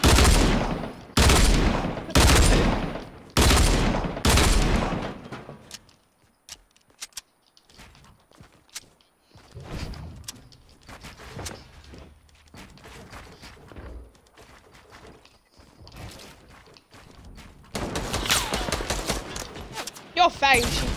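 Bursts of gunfire in a PS4 shooting video game, several loud rapid volleys at the start and a dense burst near the end, with quieter scattered game sounds and talk in between.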